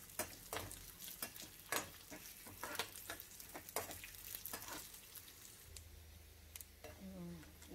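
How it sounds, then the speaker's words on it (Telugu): Dry fruits fry in a pan for an Indian sweet, a close, crackling sizzle with sharp ticks and stirring scrapes throughout, faint talk briefly underneath near the end. "డ్రై ఫ్రూట్స్ వేగినాయండి, గిన్నెలోకి తీసుకుందాం."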